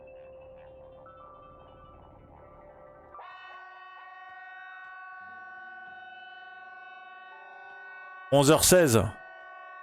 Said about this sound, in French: Et la sirène, elle commence à retentir à 11h16.